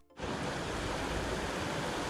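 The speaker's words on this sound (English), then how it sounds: "You see that water coming through? That's just with a few minutes worth of rain." Rainwater pours in through a utility installation after a few minutes of rain, a steady dense rushing wash that starts abruptly and holds at an even, loud level with no voices.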